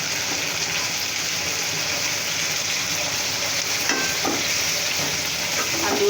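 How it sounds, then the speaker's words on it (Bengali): Potatoes and shrimp fry together with cumin powder in a pan, giving a loud, steady, close sizzle broken by a few scraping stirs. "আলু চিংড়ি মাছ একসাথে কষাই দিব, আমার একটু জিরের গুঁড়া দিয়ে দিব।"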